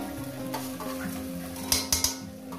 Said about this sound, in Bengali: এবার এই মাছটাকে দিয়ে আমি আরো 3-4 মিনিট একটু ভেজে নেব